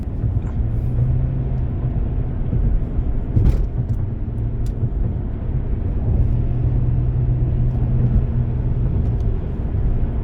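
A 392 V8 car pulls hard as it accelerates while driving, a steady, loud, low engine rumble with road noise that holds throughout.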